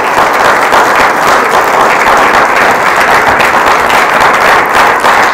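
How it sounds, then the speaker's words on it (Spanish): A church congregation applauding loudly and steadily, thick continuous clapping filling the room without a break. "Fuerte el aplauso a la gloria del Señor."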